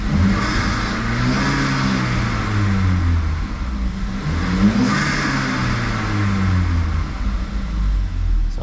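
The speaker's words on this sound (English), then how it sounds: "And it revs pretty smoothly." GM 2.0L turbo engine revving smoothly after a coil pack replacement, a steady close mid-pitched engine drone with two mild swells in revs and no talk over it.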